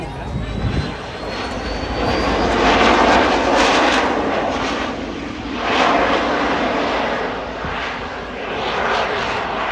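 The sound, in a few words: jet aircraft flying overhead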